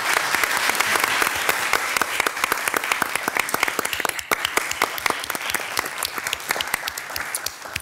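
Applause breaks out at a city council meeting, a crowd clapping close by that starts dense and then thins into scattered individual claps toward the end.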